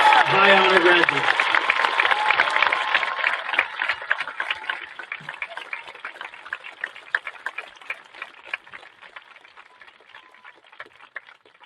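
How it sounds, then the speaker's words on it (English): A high school graduation audience bursts into loud applause for honor graduates after a spoken announcement. The clapping starts dense and full, then gradually thins into scattered, fading claps. "Please join me in a round of applause for the Voorhees High School class of 2026 High Honor graduates."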